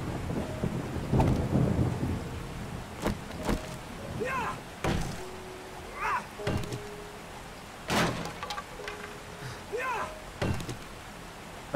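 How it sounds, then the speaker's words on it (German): Thunderstorm in the survival game 7 Days to Die, with repeated thunder rumbles and cracks over a rainy background while people talk over it throughout. "Gewitter!"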